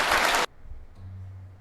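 A short, dense burst of applause-style clapping from a crowd sound effect, loud and full, cutting off abruptly after half a second into a faint low hum.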